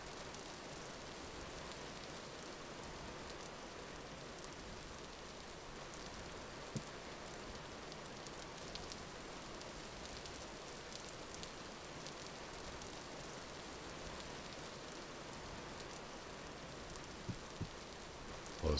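Rain falls through an open roof in the game Vintage Story, a steady, soft, even patter of drops with occasional faint ticks, continuous and without voices.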